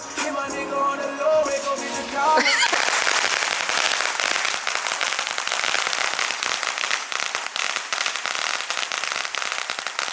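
A firecracker smoke bomb bursts with a sharp bang, then a dense stream of crackling pops continues steadily for several seconds, loud and close.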